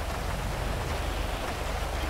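Steady rain pours down outdoors beside a house, a dense, even hiss that fills the whole stretch at close range with no voices or other distinct sounds over it.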